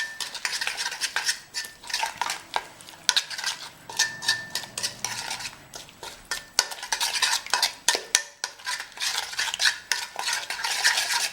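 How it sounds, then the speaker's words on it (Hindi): A spoon stirs yogurt and spices together in a metal pot for mutton korma, giving repeated close scraping and clinking strokes in an uneven rhythm, with no talking. "ये हमारे पास दही है, इन सबको अच्छा बढ़िया मिक्स कर लेते हैं"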